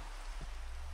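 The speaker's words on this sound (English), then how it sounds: "The rain." Rain falls in the Minecraft video game, a steady hiss of pattering drops that fills the short clip evenly, with no talk.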